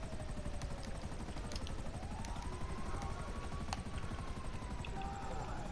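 A video game helicopter's rotor chops rapidly and steadily throughout, with a faint whine drifting in the background.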